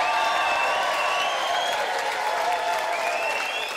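A live comedy crowd at the Benidorm Palace claps and cheers, a sustained wash of applause with whoops and whistles rising over it, loud and continuous throughout.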